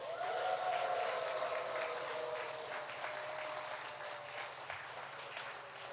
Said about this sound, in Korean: 옆 사람을 바라보고 함성과 함께 박수